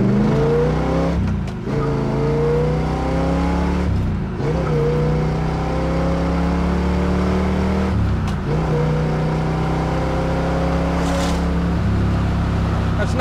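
A 1969 Chevrolet Camaro SS in Baldwin Motion style, engine loud and close as it revs and accelerates through repeated climbing pulls with brief gear-change dips, steady heavy exhaust roar throughout and no talk.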